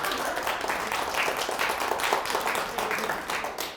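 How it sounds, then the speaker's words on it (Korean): Audience clapping at a talk on life and rehearsal, a steady patter of many hands that stays fairly even throughout before tailing off slightly at the end. "박수 한번 주셔야 되는데"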